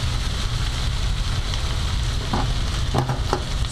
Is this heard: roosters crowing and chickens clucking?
no